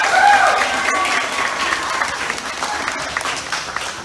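An audience at a sea lion show at the Columbus Zoo claps loudly and steadily, a dense burst of applause with faint crowd noise mixed in.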